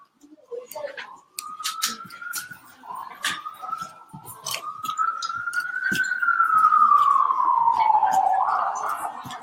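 A New York police siren wails in the distance, its tone rising slowly then sweeping down, over street noise and occasional sharp sounds.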